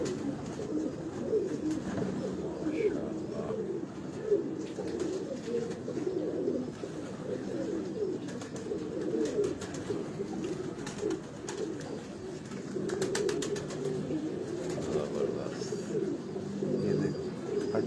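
Large Dubai-strain pigeons cooing steadily on a Lahore rooftop at night, a continuous low murmur of overlapping coos close by, with a few faint chirps.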